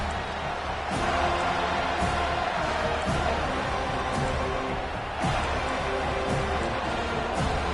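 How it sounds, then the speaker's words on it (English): Football stadium crowd roars and cheers behind the defense on third down, a loud sustained wash of noise swelling in waves across the clip. "Decibels rising as the crowd gets behind this defense on 3rd down."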